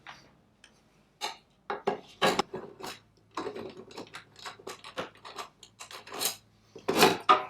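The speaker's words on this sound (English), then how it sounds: "we just need to remove this Phillips screw underneath here" A screwdriver works a Phillips screw loose under a Harley-Davidson Street Glide headlight bracket, giving a close run of short scraping, ratcheting turns with brief pauses and no talk.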